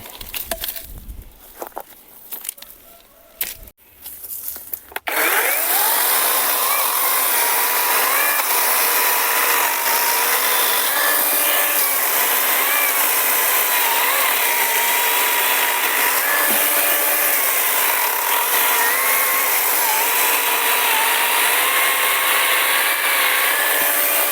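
Cordless ABS L-212(SP) saw cutting through pine wood: after a few seconds of scattered knocks and handling, a loud, steady motor whine with a rough cutting rasp runs without a break to the end.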